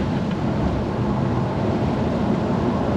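A 3UZ V8-swapped 2013 Toyota Hilux ute cruises at 100 km/h and low RPM, giving a steady, even drone with road and wind rumble and no voices.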